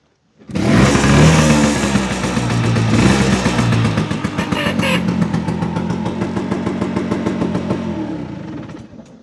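A fully restored Douglas-built Lambretta 150 L2 classic scooter starts up and runs. Its two-stroke engine blips briefly, then settles into a loud, steady, close putter that continues to the end without talk.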